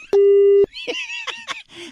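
A steady electronic busy tone on a phone line after a call is hung up, one sustained beep close and loud, followed by clipped chirps and voice-like noise.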